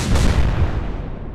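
A warship gun in Atlantic Fleet fires a single heavy, booming shot, loud and low, then rumbles away into a fading tail.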